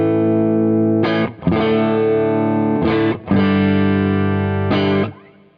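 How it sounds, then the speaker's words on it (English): A dry electric guitar played through a pedal board with a Torpedo cab, compressor and reverb but no delay rings out in three sustained, loud chords, each struck sharply and left to ring before fading at the end. "So pretty basic kind of guitar sound."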